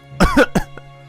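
A female character in the Fate/Stay Night visual novel coughs painfully, giving two or three close, harsh coughs followed by a faint breath.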